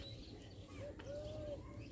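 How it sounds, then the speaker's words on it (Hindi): Soft pigeon cooing in a low, rounded murmur in an Indian village, with a faint tonal call drifting over steady background noise. "कबूतर उधर बैठे है"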